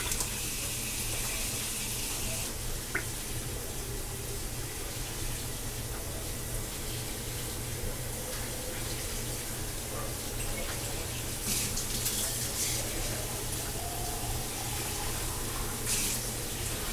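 Water is poured from a jar into a canner while preparing to can meatloaf, making a continuous splashing, gushing flow heard close up throughout.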